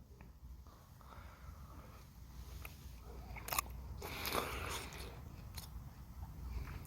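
Someone eating black sea bream sashimi dipped in soy and wasabi sauce, with soft close-up chewing and a few faint crunchy bites over a quiet room background.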